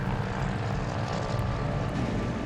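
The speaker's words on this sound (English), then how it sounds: "21 planes and 240 paratroopers take to the air." Propeller-driven Dakota transport planes carrying paratroopers take off, a steady, dense droning engine roar that holds at an even loudness throughout, with no voices over it.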